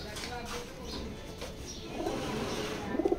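Racing pigeons in a loft, including an egg-laying hen, give low cooing calls that grow into a rhythmic pulsing coo near the end, with faint background noise.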